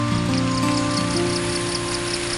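Steady rain falls on a farm, a dense, even hiss with soft drop taps, continuous and fairly loud with faint tonal hum underneath.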